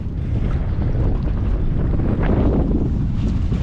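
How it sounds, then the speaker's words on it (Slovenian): Strong wind blows steadily by the sea near an island off Phuket, Thailand, roaring and buffeting the microphone loudly and continuously, with no voices. "Jedva greva malo na otok, pa že tle tako piha"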